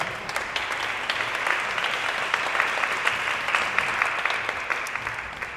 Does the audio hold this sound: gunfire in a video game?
no